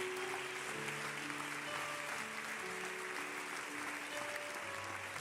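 A church congregation applauds steadily throughout, a dense wash of clapping under a sustained musical tone, without a clear break.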